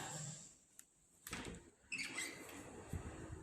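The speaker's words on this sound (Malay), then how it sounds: "Ni saya buka pintu saja." A door swinging open in a bungalow kitchen in Shah Alam, with a soft clunk and a sliding, rattling sweep followed by a breezy wash of air and faint clatter, moderately close.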